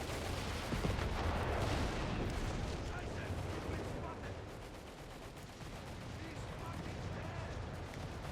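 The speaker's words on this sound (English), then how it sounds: "Artillery, though, is hitting that sector now" Artillery shells pound a sector in Company of Heroes 3 on the 4v4 Mignano Gap map, a dense continuous rumble of distant blasts and gunfire filling the whole stretch at steady loudness.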